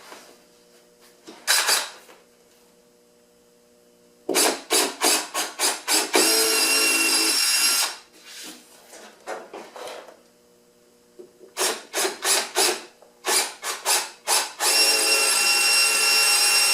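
A power drill whirs in repeated short bursts and a few longer runs, close by, separated by quiet pauses, drilling mounting holes for a front lip splitter on a Toyota MR2 AW11.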